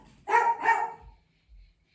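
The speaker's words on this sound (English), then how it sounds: "Sorry about that dog barking." A dog barks twice in quick succession, close and fairly loud, followed by a quiet pause and a faint low thump.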